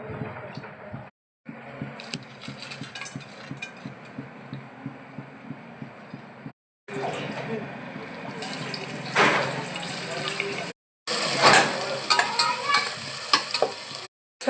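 Onion with coriander powder, turmeric and ginger-garlic paste fries and sizzles in a pan beside rice, a continuous crackling hiss with repeated stirring scrapes, broken by a few short silent cuts and growing louder toward the end.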